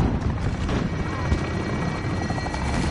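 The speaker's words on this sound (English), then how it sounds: "Friendly chopper gunner inbound." A chopper gunner helicopter roars in a first-person shooter game: loud, steady rotor thumping that fills the whole clip, with faint voices and battle noise mixed in.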